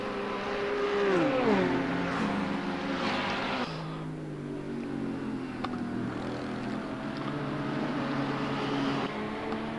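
Race cars including a Nissan and a Ferrari lapping Road America in a sim racing series, engines whining and changing pitch through gearshifts, a sustained mid-level drone with one car's note sweeping down early on.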